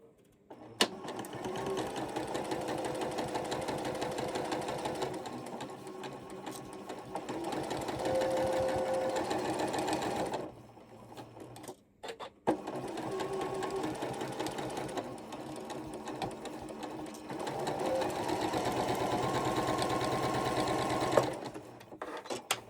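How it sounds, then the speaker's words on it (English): A sewing machine stitches a quilt block in long steady bursts of rapid whirring, pausing briefly near the middle before running again, close and clear with no talk. "Let's go sew this bad boy."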